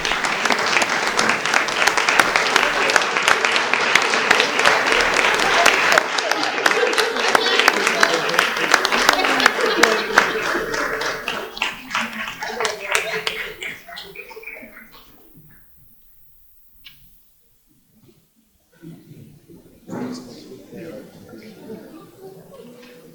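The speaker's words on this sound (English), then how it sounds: "let's give this man an applause" Crowd applause at a history and science forum, a dense sustained ovation that holds steady for about twelve seconds, then thins out and fades toward silence, with a voice speaking over it near the end.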